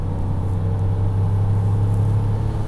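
A Porsche 959 supercar drives along with a steady, loud engine rumble and low drone throughout, no change in pace and no voices.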